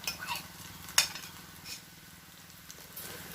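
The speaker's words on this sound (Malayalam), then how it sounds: "അപ്പോൾ നമ്മൾ നാളികേരം ഇട്ട് നല്ലതുപോലെ ഒന്ന് വഴറ്റിയെടുക്കുകയാണ് ചെയ്യുന്നത്." Grated coconut sautés with onions and green chillies in a pan, giving a soft, faint sizzle broken by scattered spoon scrapes and one sharp metallic clink, with no one talking.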